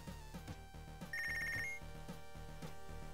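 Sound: telephone ringing in the video game Punch Club

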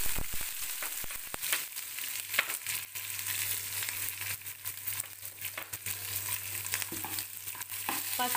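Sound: onions and curry leaves frying in a pan

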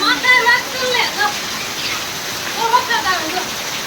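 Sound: rain falling

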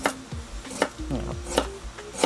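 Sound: knife slicing chicken feet into rings

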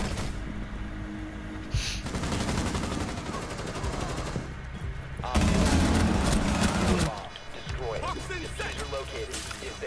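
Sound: gunfire in Rainbow Six Siege video game

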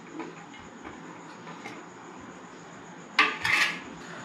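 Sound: mixing grated boiled potato with onion and chilli in bowl

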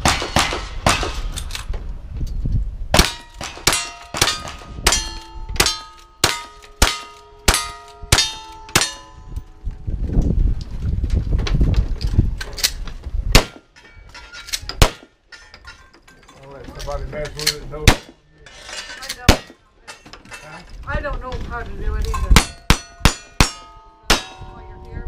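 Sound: gunshots hitting steel targets at a shooting match

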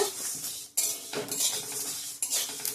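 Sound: dry-roasting fenugreek and fennel seeds in a pan, stirring

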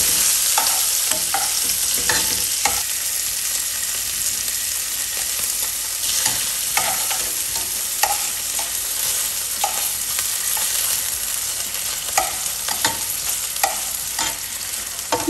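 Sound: flathead fish fillets frying in a pan

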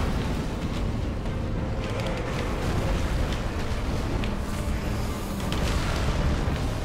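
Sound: explosion in a video game

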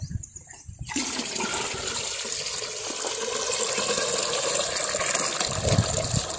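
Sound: pot of water being poured

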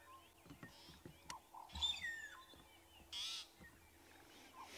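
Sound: magpie shrike calling at sunrise

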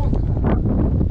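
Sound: strong wind blowing

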